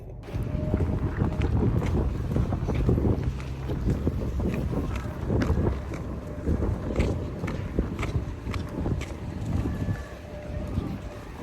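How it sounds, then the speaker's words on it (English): Steady wind buffeting the microphone outdoors, a constant low rumble with gusts, and faint movement or footsteps underneath. "It's so windy outside."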